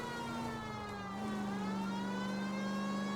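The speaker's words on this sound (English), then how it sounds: "And we also have our sirens on." A police car siren in the video game LA Noire wails steadily over a low engine drone, fairly faint and continuous.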